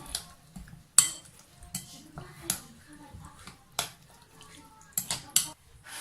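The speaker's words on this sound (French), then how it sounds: "On mélange bien tous nos ingrédients, puis on ajoute l'huile à notre mélange." Stuffing ingredients mixed with oil in a bowl, for a roast chicken stuffed with vermicelli and preserved lemons: scattered clinks and taps of a utensil against the bowl with soft stirring between, close up and irregular.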